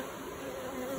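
Honey bees from an orphaned colony buzz continuously at the hive, a dense steady drone filling the whole second with no other sounds.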